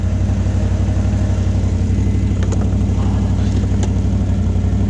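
A brand-new Can-Am Outlander 1000 XMR ATV sits stuck in a mud hole in four-wheel drive, its engine running in a loud, steady low drone with a couple of brief sharp clicks near the end.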